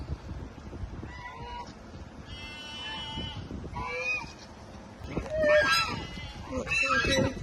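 Geese honk and call in a barnyard alongside goats, sharp bursts scattered over a steady low background, with voices talking between them.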